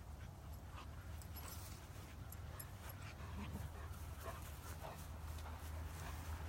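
Dogs play around a German Shepherd puppy, giving faint whimpers, yips and panting at a distance over a low rumble of outdoor background noise.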